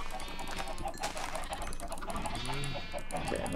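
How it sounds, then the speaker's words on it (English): Many chickens in the Minecraft video game cluck and squawk in a dense, continuous chorus, with overlapping game sounds filling the background throughout. "Okay, that's a lot of chickens."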